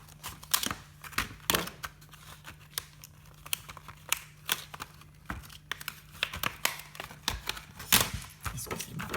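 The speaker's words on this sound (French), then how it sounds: "je sors mon ciseau mastodonte et je vais l'ouvrir vite fait" Large scissors snip open plastic packaging in a string of sharp, close crinkling cuts and rustles, irregular and fairly quiet, with a steady low hum underneath.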